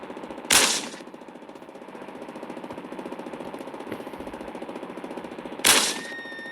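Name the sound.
gunshots fired in a video game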